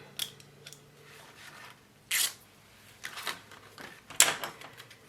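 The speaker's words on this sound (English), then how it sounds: "Remove our backing tape." Backing tape is peeled off removable adhesive on a paper folio, giving several short, sharp crackling rips and rustles at close range with quiet gaps between them.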